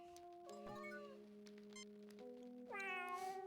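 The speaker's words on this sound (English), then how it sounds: "I think the cat is very comfortable in its current location," Synthesized cat meows from the video game Star Trek: Judgment Rites, a domesticated long-haired cat, heard as two or three drawn-out electronic mews over a steady tonal game soundtrack, fairly quiet and with no talking.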